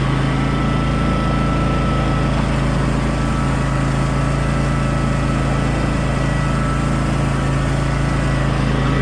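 An old front-engine John Deere lawn mower climbing a steep incline, its small engine droning steadily and loudly at close range with an even, unbroken hum.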